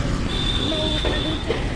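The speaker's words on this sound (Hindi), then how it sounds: "मेट्रो के लाइन है बहुत बढ़िया मेट्रो बन के प्रगति बा ITPL मेट्रो ट्रेन" A metro train on the ITPL line rumbles steadily and loud, with a thin, high wheel squeal drawn out through most of the moment and no clear talk.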